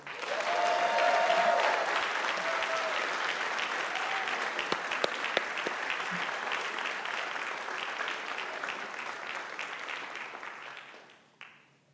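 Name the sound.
audience applause at a college convocation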